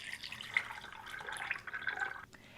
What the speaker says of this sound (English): And this is just some hot water.